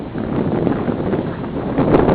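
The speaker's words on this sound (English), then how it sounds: "And you can see it's really windy." Strong gusty wind buffets the microphone in a yard, a loud continuous roar that swells again near the end, with rustling mixed in and no talking.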